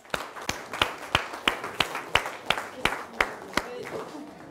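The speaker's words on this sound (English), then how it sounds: "Give yourselves a round of applause for coming." An audience claps in sharp, evenly spaced bursts about three per second, a crisp rhythmic pattern at moderate loudness that fades slightly toward the end.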